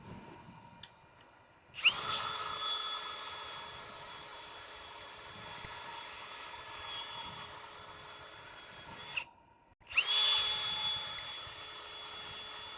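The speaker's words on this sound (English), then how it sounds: "Now sanding is just the best part of a thing, isn't it?" A power sander whines steadily and loudly on wood for several seconds, cuts off briefly, then starts up again with the same harsh, even drone.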